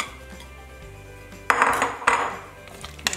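A spoon scrapes and clanks against the metal inner pot of an Instant Pot while stirring lamb stew with potatoes and carrots. Two sharp metallic strikes and some softer scraping come from close up over a low hum, with no voices.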